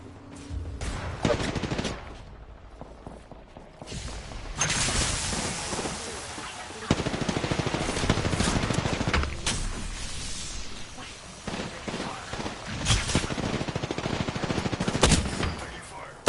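Bursts of automatic gunfire from an Apex Legends firefight, loud repeated volleys and rapid rattling shots crowding the whole stretch, with a voice speaking over the shooting.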